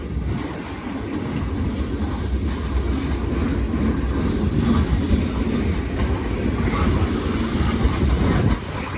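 A freight grain train hauled by older GE and EMD locomotives climbs a hill in snow on a short line near Cincinnati, a steady loud rumble of engines and rolling wagons with faint clickety-clack throughout.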